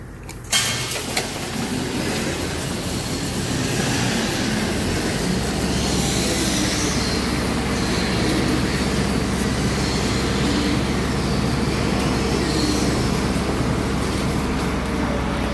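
A skid loader on a farm drives past, its engine a steady low rumble with broadband mechanical roar holding continuously and fairly loud throughout, with no talk.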